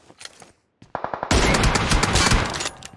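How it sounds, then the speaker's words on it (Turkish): Gunfire rattles in PUBG Mobile as shooters fire from a hill: a few separate shots, then a short string of rapid cracks, then a loud sustained automatic burst of close, dense fire lasting over a second. "Karşı Rozok tepesinden sıkıyorlar."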